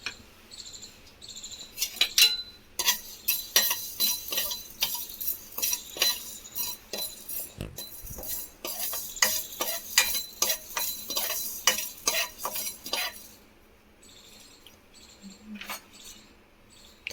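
Fenugreek and cumin seeds dry roasting in a pan give a string of light rattles and dry clicks as they are stirred, with quiet gaps near the end, close by and faint.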